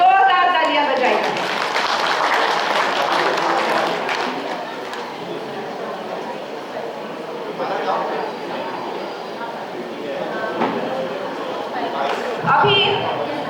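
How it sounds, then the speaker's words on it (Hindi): Audience applause at a community annual general meeting in Maharashtra, honouring past and present office bearers: a broad, sustained clapping wash lasting throughout, steady and fairly loud, with a voice talking over it in places. "वर्तमान पदाधिकारियों के लिए जोरदार तालियां बजाइए।"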